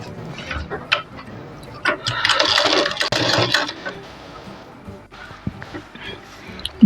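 A sewing machine stitches along a blouse neckline. A fast, whirring run in the middle is framed by clicks and handling noises, and no one speaks.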